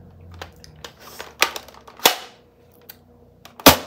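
An Elite Nerf toy blaster fires several times, with crisp snapping pops spaced irregularly across a few seconds and small clicks and handling noises between them, close up and without talking.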